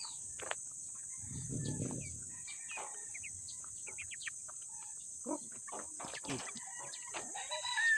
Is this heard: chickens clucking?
yes